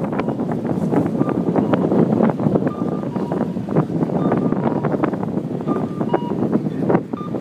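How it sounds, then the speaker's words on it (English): Gusty wind buffets the microphone in a continuous rumbling roar, with faint knocking and scattered clicks underneath. "Oh, there's a wind again"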